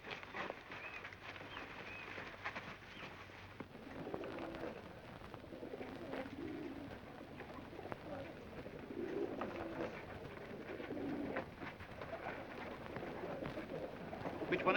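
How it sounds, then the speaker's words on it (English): Pigeons coo steadily over a dull indoor background, repeated soft low coos near and continuous with faint flapping and patter. "Yes, there are pigeons here."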